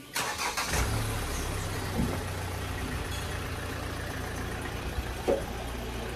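A car engine cranks and catches with a short burst at the start, then settles into a steady, even idle that runs on close by for several seconds, with a few faint knocks over it.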